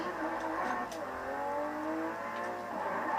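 A Lamborghini Aventador accelerating hard in the Forza Horizon 2 video game, heard from cockpit view, with a steady engine roar whose pitch climbs and sweeps through gear changes, continuous and fairly subdued.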